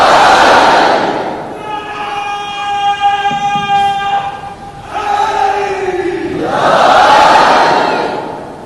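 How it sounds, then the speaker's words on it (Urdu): A large crowd roars a religious slogan, Naara-e-Haidari, in loud massed surges, with a sustained chanted tone from many voices between the waves of shouting. "پہلے صرف ایک ہی نعرہ ہوتا تھا، نعرہ حیدری"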